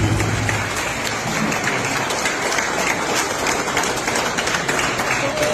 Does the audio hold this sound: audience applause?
yes